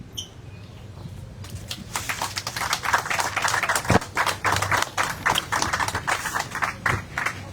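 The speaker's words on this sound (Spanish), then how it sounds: "pido de nuevo un fuerte aplauso para los 4" Audience applause for four writers at a municipal book fair writers' forum in Autlán, rising from quiet into a brisk run of claps from a modest crowd that continues steadily, with individual hand claps distinct.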